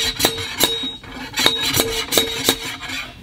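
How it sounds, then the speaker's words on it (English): A steel rod strikes down the bore of a 50 BMG rifle barrel to drive out a lodged bullet, giving a series of sharp metallic clanks in an uneven rhythm, loud and close, with no talk. "I'm gonna knock the bullet out of there."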